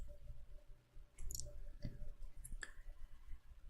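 A computer mouse gives a few faint, sharp clicks, close but quiet, scattered over a low room background with no speech.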